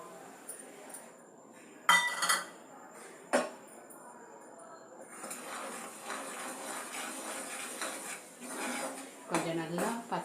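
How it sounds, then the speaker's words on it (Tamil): A metal spoon clinks and scrapes around a pan of gram flour frying in ghee, with a few sharp knocks over a soft, steady frying hiss. "இப்போ இதில் இந்த கடல மாவை பொரிக்கலாம்."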